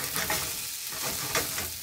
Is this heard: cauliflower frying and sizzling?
yes